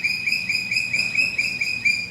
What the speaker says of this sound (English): all the bird noises makes you feel so at peace.